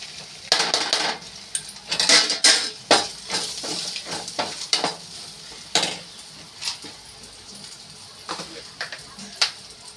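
Masala frying in a pan for coconut rice while a spoon scrapes and clinks against the metal in irregular stirring strokes, with a soft sizzle underneath, close by.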